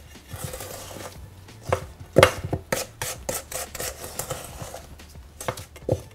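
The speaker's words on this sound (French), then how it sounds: "on va ajouter la farine et mélanger avec une cuillère en bois" A wooden spoon works flour into a creamy butter-and-sugar mixture for a lemon fondant dough, giving irregular scraping knocks and soft thuds against the bowl, close and alone with no talk.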